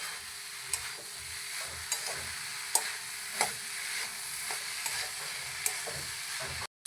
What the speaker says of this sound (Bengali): আবার নেড়ে চেড়ে নেবো, ভালো করে মিশিয়ে নেবো।